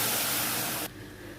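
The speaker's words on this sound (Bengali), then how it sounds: "এবার আমি কচুরগাটি ঢেলে দেবো।" Taro stems poured into hot oil with dried red chillies and cumin seeds, giving a loud, bright, broadband sizzle that drops abruptly to a softer, steady frying hiss partway through.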